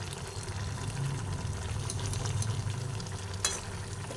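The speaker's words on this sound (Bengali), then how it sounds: "একটু অল্প করে আলতো হাতে নাড়াচাড়া করে দিচ্ছি" A spoon gently moves through a simmering curry of mixed vegetables and lentil fritters with fried spices, a soft continuous sizzle and bubbling with faint scraping and a small clink near the end.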